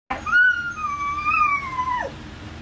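A dog howls along to a pop song, one long wavering howl rising and bending in pitch for about two seconds, loud and close, before it drops off at the end.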